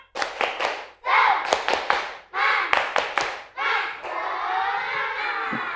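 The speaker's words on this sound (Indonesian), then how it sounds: "Nah, tepuk semangat." A classroom of children performs a rhythmic spirit clap, sharp synchronized claps in quick patterned groups, close and loud, interleaved with the class chanting together.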